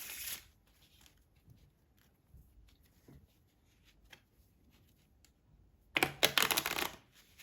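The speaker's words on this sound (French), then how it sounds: "on va venir faire un petit mélange à l'américaine, histoire de bien mélanger le paquet" A deck of playing cards riffle shuffled once, a brief loud burst of fluttering, clicking card edges near the end after a long quiet stretch with faint handling sounds.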